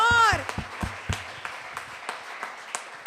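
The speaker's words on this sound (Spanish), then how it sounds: "Vamos a darle un aplauso al Señor." A church congregation claps together after a sermon line, scattered distinct hand claps spaced out and moderately loud after a voice tails off at the start.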